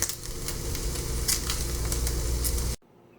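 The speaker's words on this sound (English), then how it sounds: "Cooking the second batch in the skillet for the Oscar Mayer turkey bacon" Oscar Mayer turkey bacon sizzles steadily in a hot skillet, a dense, crackling hiss with small pops that carries evenly for nearly three seconds and then cuts off abruptly into quiet.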